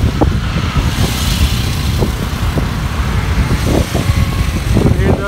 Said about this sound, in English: You hear the sound of wind.